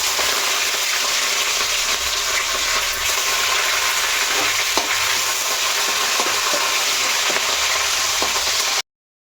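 Garlic and curry leaves fry in hot oil for a cabbage fry, a loud, steady, dense sizzle that fills the whole stretch close up, with faint stirring clicks and no voices.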